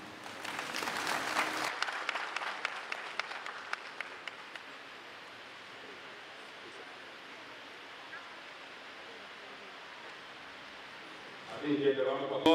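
Audience applause at a university investiture ceremony for a new vice-chancellor in Ghana, a dense burst of clapping for the first few seconds that then drops away into quiet room ambience.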